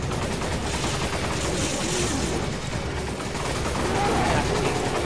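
Rapid gunfire from the video game Resident Evil 5 runs continuously as a dense, noisy rattle of shots, fairly loud throughout, with voices talking in the background.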